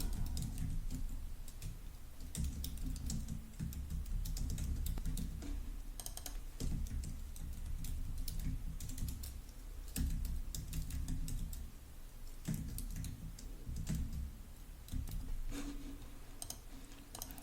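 Steady, close typing on a computer keyboard while entering a query script, a continuous stream of quick clicking keystrokes with brief pauses, alone and fairly quiet.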